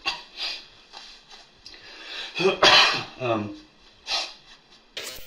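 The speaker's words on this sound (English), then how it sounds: "You must have a cough attack" Several harsh coughs and throat-clearing bursts in quick succession, close and fairly loud, with short breaths between them.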